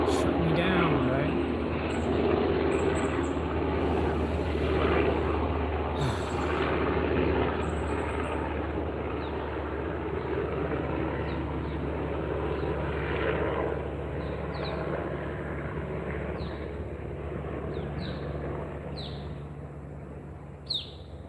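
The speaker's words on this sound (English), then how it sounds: "I guess there's a helicopter passing by." Helicopter passing overhead outdoors, a low continuous rotor rumble under someone talking, with birds chirping faintly in the background.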